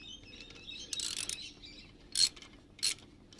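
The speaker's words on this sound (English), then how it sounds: "Now we need to come along and tighten them all up." Ratchet tightening the footpeg bar bolts on a 2023 Honda CB125F, with quiet clicking and then two short, sharp bursts of ratcheting, close and fairly faint, with no talk.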